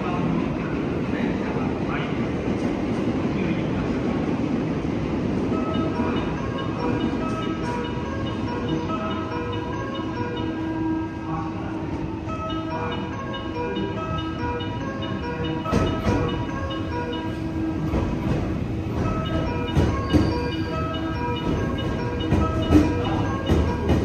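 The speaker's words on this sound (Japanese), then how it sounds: "約3分遅れて京都駅に到着しております。" A train rumbles steadily as it rolls into Kyoto Station, with a low mechanical drone, squealing tones and clanks, while a Japanese voice announcement plays over the noise.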